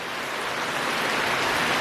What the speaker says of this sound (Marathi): आजच्या दিवशी बघा पाऊस आलाय